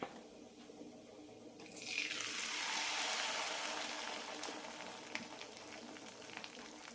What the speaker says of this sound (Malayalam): ഇനി മാവ് ഒഴിക്കാം